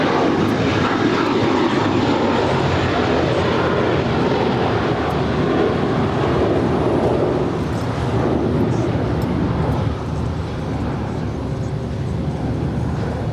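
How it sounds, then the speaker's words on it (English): A JetBlue airliner departing Los Angeles International Airport for Newark gives a loud, steady broadband engine roar that holds throughout and eases slightly near the end, with faint radio chatter beneath. "that was JetBlue 1374 departing Los Angeles for Newark"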